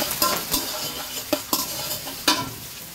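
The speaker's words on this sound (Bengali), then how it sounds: "এর মধ্যে দিয়ে দিচ্ছি আমি কিছু পেঁয়াজ কুচি" Chopped onion, garlic and green chili hit hot oil already scented with bay leaf and cinnamon, sizzling steadily while a spoon stirs and scrapes the pot in several sharp strokes, for chicken gizzard and liver bhuna khichuri.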